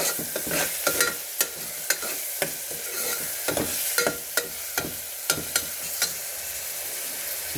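Crushed garlic frying in a pan, a steady crackling sizzle broken by frequent sharp stirring scrapes and taps, close and clear with no voices.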